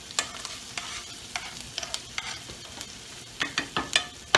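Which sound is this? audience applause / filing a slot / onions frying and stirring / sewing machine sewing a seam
onions frying and stirring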